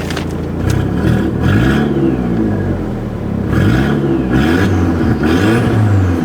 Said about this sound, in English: Shall we give it a few revs?